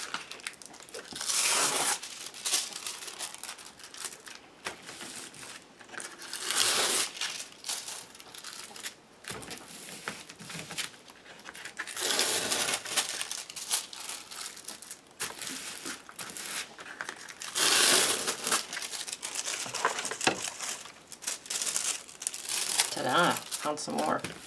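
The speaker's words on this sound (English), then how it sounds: "just lay the remainder of my transfer foil on there" Transfer foil being laid and pressed onto glued watercolor paper, giving long stretches of close crinkling and rustling in waves, with bursts of louder crackle.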